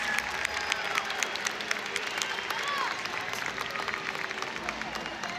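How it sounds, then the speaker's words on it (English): A crowd applauds volunteers at a SeaWorld Christmas show, the clapping steady and moderately distant across the whole stretch, with murmuring voices and scattered sharp claps on top. "Let's give another round of applause for our amazing audience volunteers"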